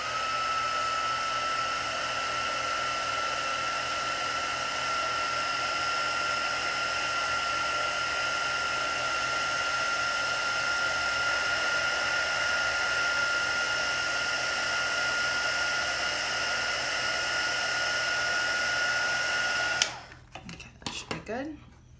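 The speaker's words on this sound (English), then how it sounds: "I'm gonna use my heat tool, this one, to just dry the middles just before I add the indigo color." A handheld heat tool blows with a steady, loud whirring hiss for about twenty seconds while drying paint on a floral watercolor painting, then cuts off abruptly, leaving faint handling noises.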